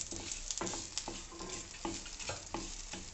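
Dals sizzling in a pan for spicy onion chutney as tamarind goes in, with a rhythmic scrape of stirring about twice a second over a constant close fry; no talking.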